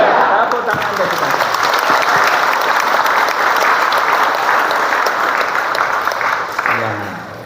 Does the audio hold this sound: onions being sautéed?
no